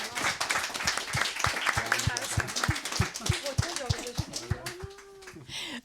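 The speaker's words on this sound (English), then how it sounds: "give a big round of applause for both of these people" An audience claps in a brisk burst of applause that tapers off toward the end.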